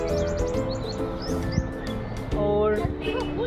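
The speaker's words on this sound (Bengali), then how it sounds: "চারিদিকে গাছগাছালি ভর্তি, সাথে মিষ্টি পাখির ডাক" Birds singing among the trees of a park, several short chirps and tweets scattered over a steady outdoor background, moderately near, with a faint murmur beneath.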